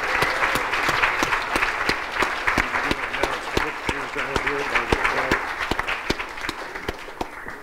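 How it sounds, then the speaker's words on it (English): Applause at the North Dakota Cowboy Hall of Fame induction honors inductees. A mid-sized crowd claps steadily, and a few individual claps ring out sharply as the applause thins toward the end. "let's give everybody a round of applause"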